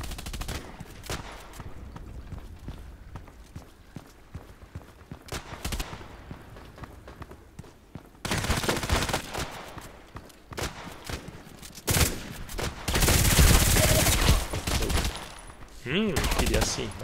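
Mortar fire and other weapon blasts in a shooter video game, a busy mix of loud booming bursts and rattling shots that grow heavier toward the end, with scattered clicks and footsteps underneath.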